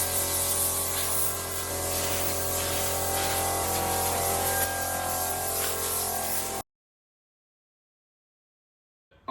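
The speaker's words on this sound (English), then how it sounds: "using the air gun to get rid of any dust" Compressed-air gun blasting dust off a freshly sanded Porsche 987 Cayman S in a workshop; a steady, loud hiss runs continuously for about six and a half seconds, then cuts off abruptly into silence.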